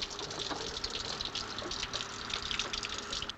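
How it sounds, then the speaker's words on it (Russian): A running water tap in a film scene, a steady broadband hiss of flowing water with faint drips, continuous and fairly quiet throughout. "Закрой кран"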